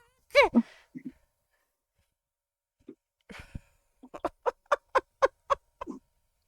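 A voice imitates a chicken clucking with a rapid run of about ten short, evenly spaced clucks, close and clear, after an opening sigh-like vocal sound and a few scattered small noises.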